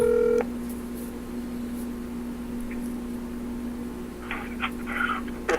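Telephone call tones ring out as a talk-show host calls in a guest, with a brief tone at the start, then a steady held tone, and faint clicks near the end.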